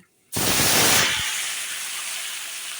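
Mixed vegetables, radish, aubergine, potato and beans, hit hot oil seasoned with black cumin in one sudden loud burst of sizzling. The hiss then settles into a steady, slightly quieter frying. There is no talk.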